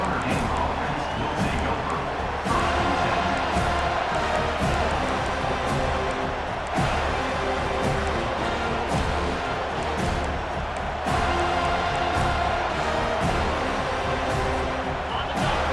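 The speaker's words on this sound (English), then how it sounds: "Listen to the crowd energy here in the early going." A large stadium crowd roars in a continuous wash of noise at a college football game between Notre Dame and Florida State, swelling in several surges, with a commentator's voice heard faintly beneath it.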